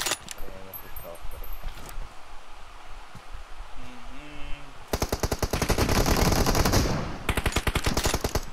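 Rapid automatic gunfire in the mobile battle royale game BGMI, dense bursts starting halfway through and continuing to the end, preceded by quieter game ambience and scattered shots while players talk.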